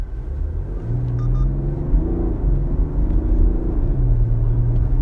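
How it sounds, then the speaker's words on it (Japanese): A BMW 740d xDrive diesel 7 Series M Sport in sport mode accelerates hard, its engine note a deep, steady rising drone with gear-change dips, heard from inside the cabin with no talk. "ちょっと加速で強めにアクセルを踏んでみます。"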